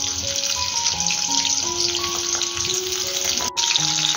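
Chicken lollipops frying in oil in a pan over a medium gas flame give a steady, dense sizzle that runs unbroken from start to end, with faint tonal sounds in the background.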